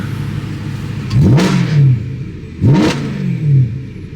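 A BMW E92 M3 engine revs twice in quick succession, each blip climbing sharply then dropping back to a rumbling idle, loud and close with no talking.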